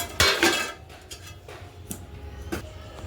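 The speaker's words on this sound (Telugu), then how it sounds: "మూత పెట్టుకుందాం." A lid set onto a pot of fish curry cooking over a wood fire, a loud metallic clatter at the start followed by a few lighter clinks and taps spread over the next seconds.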